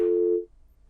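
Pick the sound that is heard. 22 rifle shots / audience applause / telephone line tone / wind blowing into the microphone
telephone line tone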